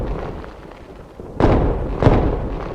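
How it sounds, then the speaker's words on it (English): Missiles exploding over Erbil in Iraq's Kurdistan region at night, near the US consulate: two heavy, booming blasts roughly half a second apart, loud and rumbling, over a low background roar. "The silence was shattered by a barrage of missiles."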